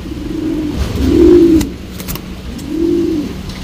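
Two Patta pigeons, a bonded pair, coo close by in deep, rolling throaty calls: three swelling coos spaced about a second apart, alone over a quiet background.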